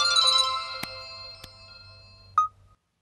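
Mobile phone ringtone in a Bhojpuri film scene, a bright melodic electronic tone playing steadily for over two seconds with a few sharp clicks, cut off by a short beep.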